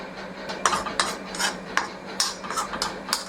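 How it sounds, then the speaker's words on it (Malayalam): A metal spoon stirs cashew nuts frying in ghee in a pan, with sharp irregular scraping clinks against the vessel over a faint sizzle, no talking. "അതിന് നമുക്ക് ലേശം നെയ്യ് വെച്ച് അണ്ടിപ്പരിപ്പ് ഒന്ന് വറുത്തെടുക്കാം."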